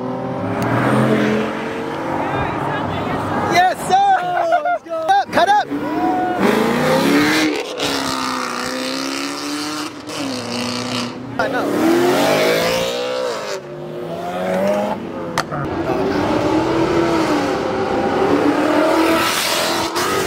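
Cars accelerate away from a Cars & Coffee meet one after another, engines revving hard and rising in pitch as they pass close by, with occasional tire squeal and bystanders talking between passes.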